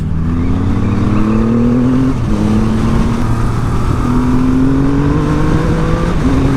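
A loud 2020 Triumph Rocket 3 2500cc motorcycle engine revs hard and continuously, its pitch climbing and dropping again and again as it runs through the gears.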